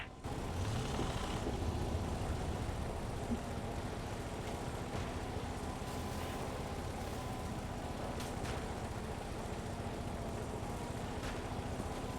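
A tank engine from the game Gates of Hell: Ostfront rumbles on as the tank moves, a dense, continuous low drone with faint mechanical clanks and hisses layered in, with no talk.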